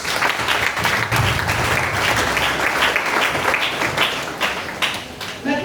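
A church congregation breaks into sustained, loud applause that fills the room as a dense, steady wash of clapping for several seconds, with faint voices mixed in.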